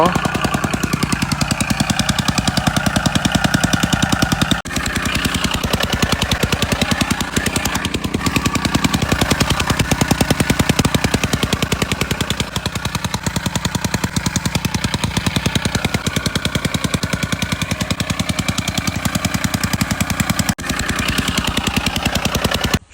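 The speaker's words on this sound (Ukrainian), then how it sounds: "площадочною трамбовкою три проходки пісочок валимо" A plate compactor works sand on a cottage building site, a loud, close, continuous rapid thumping vibration of its engine running steadily throughout with no speech.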